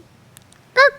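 A single short, loud nasal squawk from a human voice imitating a laughing hen, following near silence.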